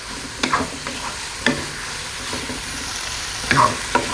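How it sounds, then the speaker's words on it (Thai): Pork pieces frying in a hot pan for Thai fried pork with tom yum sauce, a steady bright sizzle broken by a few sharp clinks and scrapes of stirring, close and loud. "เราก็จะเอาหมูลงเลยนะคะ"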